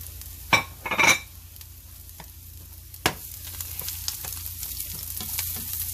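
Garlic fries in a pan with a continuous low sizzle, broken early by two sharp clattering bursts, then a single knock, with the frying hiss growing slightly louder afterward.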